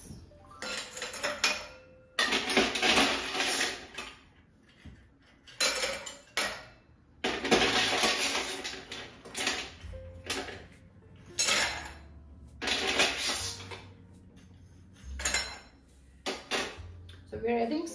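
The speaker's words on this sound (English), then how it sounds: "So we're adding some ice." Ice cubes clatter and clink into a chilled cocktail glass in bursts, loud and close, with pauses between handfuls and no voices.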